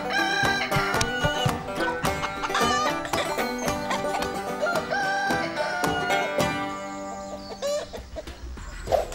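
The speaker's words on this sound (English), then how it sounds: "It's Kev the Psychic Chicken from Kiev" A chicken at a Euro 2012 football prediction stunt clucks and crows. The bird sounds are mixed into dense, loud, continuous music that runs throughout the stretch.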